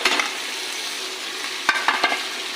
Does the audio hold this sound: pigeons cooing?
no